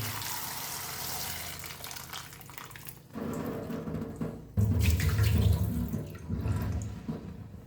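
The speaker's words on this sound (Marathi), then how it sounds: "आता सर्वप्रथम मिरच्या स्वच्छ धुवून घ्या" Green chillies washed under a running kitchen tap, a steady rush of water splashing into the sink that shifts and grows louder as the chillies are moved beneath the stream, with no talking.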